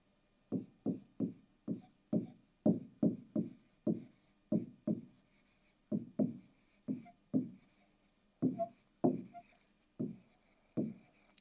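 Pen strokes scratching across a fresh notebook page while a biotechnology lesson is being written out, about twenty short, fairly loud scrapes in a steady rhythm, close by, with no talking.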